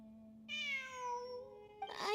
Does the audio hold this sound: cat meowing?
yes